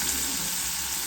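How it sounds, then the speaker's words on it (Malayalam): Chopped onions frying in a pan while being stirred, a steady close sizzle with a bright hiss, heard alone. "ഉള്ളി നന്നായി വഴന്ന് വരണം."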